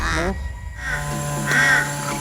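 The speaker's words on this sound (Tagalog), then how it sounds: "si Wari, isang puting uwak" Harsh caws of a white albino Philippine jungle crow from Misamis Oriental ring out in short bursts, one near the start and another later, mixed with a person speaking nearby.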